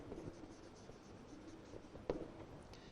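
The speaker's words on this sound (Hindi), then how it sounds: "एक बार और लिख के देखें कैसे हम लिखते हैं इंसर्ट स्टेटमेंट" Chalk or marker strokes scratch across a board during a computer class lecture, faint and intermittent, with one sharper tap near the end.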